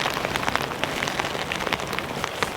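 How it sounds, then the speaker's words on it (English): Heavy rain pours down at a camp on the way up a valley, a dense, close patter of drops striking surfaces, continuous and loud with no voices. "It's absolutely pouring with rain."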